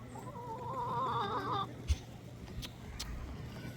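Hens cluck and chatter close by in a short burst of wavering calls, followed by scattered clucks and scratchy rustling against a steady low hum.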